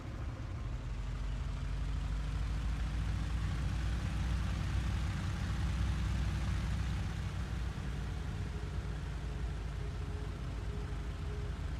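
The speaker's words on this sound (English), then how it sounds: "I can hear the engine, so that's problem solved." Steady Bf109 aircraft engine drone in the IL-2 Sturmovik flight sim, heard from inside the cockpit, a continuous low, even hum running the whole time with no speech over it.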